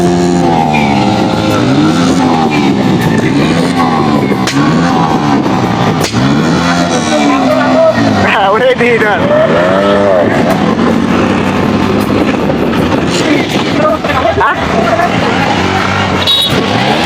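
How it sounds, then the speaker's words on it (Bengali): A group of motorbikes rides together along a road, their engines revving and roaring loudly with rising and falling pitch sweeps as they pass close by, while people talk over the noise. "সবাই একসাথে হয়ে বাইকের যে সাউন্ডের কোয়ালিটি দিছে, তো একটু যা শব্দটা শুনেন"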